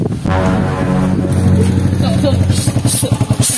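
A motorcycle engine runs close and loud, its steady hum shifting into a rapid pulsing putter near the end, with voices mixed in underneath.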